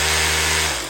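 Makita 36V cordless SDS drill, recently repaired, running freely in normal drill mode: a loud, steady motor whine with a strong hum that begins to wind down near the end.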